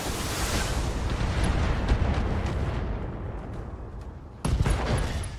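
Mech weapons fire and explosions in BattleTech, a dense rumbling wash of blasts and booms that rolls on, fades slightly, then returns with a sharp new burst.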